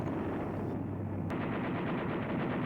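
A P-38 fighter fires its nose-mounted machine guns and cannon in a rapid, continuous burst of gunfire, dense and steady throughout.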